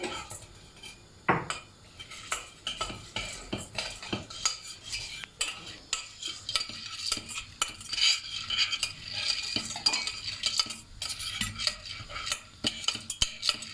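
A spoon stirs salted popcorn in a pot, making busy, uneven rattling, scraping and clinking close by with a faint sizzle underneath and no talking.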